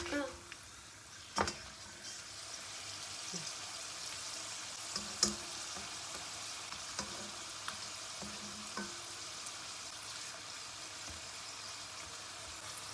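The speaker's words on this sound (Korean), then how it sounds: "노릇노릇해질 때까지 부쳐주시면 돼요" Shredded potato pancakes fry in plenty of oil in a pan, giving a steady soft sizzle with occasional sharp pops and clinks of a utensil, fairly quiet and close.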